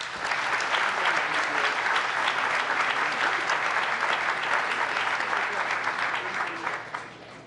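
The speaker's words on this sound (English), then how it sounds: "one more big round of applause for Sean and John" A big round of applause in council chambers at a mayor's ambassadors forum, many hands clapping in a sustained, even wash that tapers off near the end.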